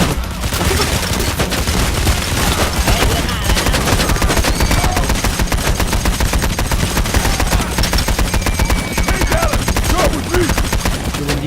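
Dense gunfire from the video game Payday The Heist: rapid, continuous bursts of loud shots crackle without pause, with faint voices underneath.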